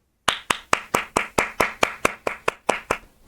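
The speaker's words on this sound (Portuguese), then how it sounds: "Palmas." Hand clapping, about fourteen sharp, evenly spaced claps at a steady moderate tempo, close and loud, with no other sound between them.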